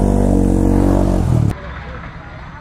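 KTM Duke 250 motorcycles riding in at a beach, a loud engine drone that cuts off abruptly about midway, leaving faint background noise and murmur.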